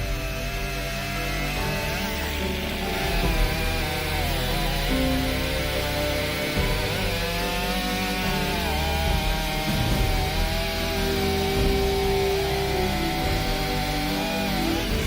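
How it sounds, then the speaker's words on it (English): A chainsaw cuts timber with a loud, steady engine drone that wavers in pitch as the chain bites into the wood, running continuously without pause. "Witnessing a chainsaw in action is an interesting sight"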